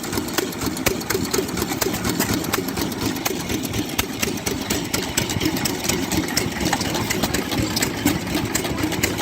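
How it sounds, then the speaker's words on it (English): An old antique engine driving a simple water pump chugs steadily at idle, a fast even knocking rhythm that runs without a break, close and loud. "This one's just a simple water pump."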